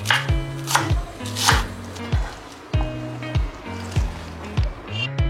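A knife slices spring onion leaves into long strips on a cutting board, making a steady run of sharp, close chopping thuds with short pauses between strokes and no talking.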